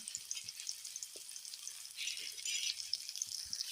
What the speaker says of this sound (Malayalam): സവാള വഴറ്റി കൊടുക്കുക.